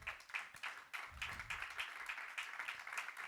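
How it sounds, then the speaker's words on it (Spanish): A church congregation claps along in a quick, even rhythm, the hand claps fairly faint and distant, with no talk over them. "Dale palmas al Señor."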